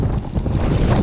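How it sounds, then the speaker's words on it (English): Strong wind buffets the microphone in a constant low roar with gusty rumbling, loud and close throughout, while riding a Trek Rail 9.8 electric mountain bike outdoors. "just really windy"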